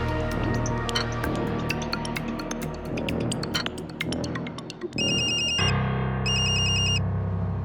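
A mobile phone ringtone: repeated bright chiming tones, then two loud sustained electronic ringing bursts near the end, alone with no speech.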